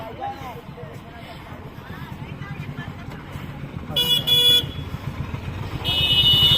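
Wedding cars lined up at a village wedding, honking repeatedly under constant engine and traffic rumble, with bursts of loud, sustained horn blasts from close by and people talking throughout.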